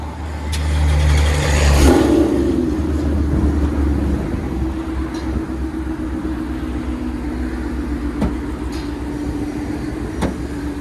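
A Ford Mustang 5.0 Coyote V8 fitted with headers and aftermarket exhaust gives a short loud rev near the start, then settles into a steady, deep idle rumble close by, with no talking.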